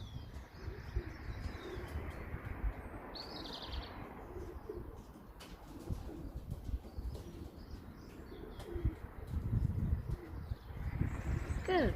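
Young pigeons in an aviary give soft coos and chirps with occasional wing flaps, faint against low rumbling background noise, while a person talks nearby.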